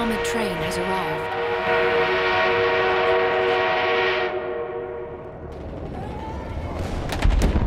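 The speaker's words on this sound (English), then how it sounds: "An enemy armored train has arrived." An enemy armored train rolls in during a Battlefield 1 conquest match, a loud, rumbling mass with long sustained tonal blasts like a horn and distant gunfire, ending in a sharp burst of close shots.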